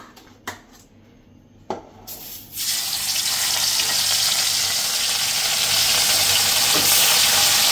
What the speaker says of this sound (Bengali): তেলটা গরম হয়ে গেছে, তো মাছগুলো দিয়ে দিই